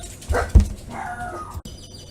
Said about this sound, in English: You can't do anything about the dogs.